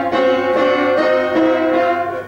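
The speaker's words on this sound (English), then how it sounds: "you find out that there are 17 or 19 trichords, and they sound like this" A sequence of three-note chords, each possible trichord type played in turn, sounding as sustained harmonic tones with new chords entering about every half second, steady and clear with no talking.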